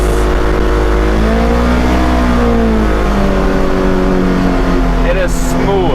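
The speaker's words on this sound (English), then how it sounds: "Is the engine noise in here louder than I was anticipating?" A Polaris Xpedition off-road vehicle engine runs loudly and steadily close by, heard from inside the cab, its droning pitch rising and falling slightly, with a voice talking over it near the end.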